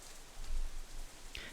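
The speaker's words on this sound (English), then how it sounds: "The rest of my voice is completely drowned out by an even heavier burst of rain." A heavy burst of rain pours down in the Katawa Shoujo video game, a dense, steady hiss of downpour that swells slightly, with no voices.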